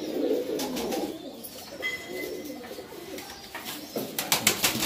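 Teddy pigeons coo softly in a loft in Chhapra, Bihar, low throaty rolling calls repeating at moderate distance, with faint rustling and brief bright chirps and clicks toward the end.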